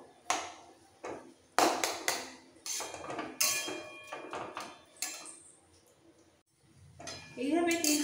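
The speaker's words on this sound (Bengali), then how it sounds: "এইভাবে 3-4 মিনিট নাড়াচাড়া দিতে দিতে বাঁধাকপি অনেক নরম হয়ে গেছে" A spoon scrapes and clinks against a pan while cabbage for bhorta is stirred, giving irregular metallic knocks and rattles up close, with a voice speaking in the background.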